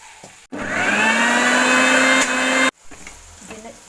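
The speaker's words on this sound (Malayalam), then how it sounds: "എടുത്ത് ആറാൻ വെച്ചിട്ട് മിക്സിയിൽ അരക്കണം." A kitchen mixer grinder whirs loudly for about two seconds as it grinds sautéed turkey berries with coconut, starting abruptly and stopping sharply, with quieter handling sounds before and after.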